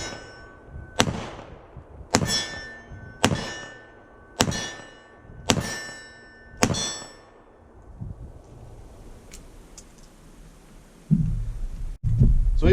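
1895 Nagant revolver fired at a steel target about 15 yards away outdoors: six evenly spaced sharp shots, each followed by a ringing metallic clang that decays, then quieter rustling and handling noises.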